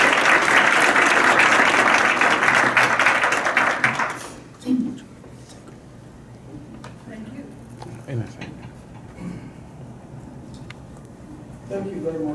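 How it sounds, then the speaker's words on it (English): An audience at an expert panel discussion gives the panelists a warm welcome, loud dense applause for about four seconds that cuts off into quiet room noise with a few scattered taps and shuffles. "I know you all join me in giving them a warm welcome and a round of applause"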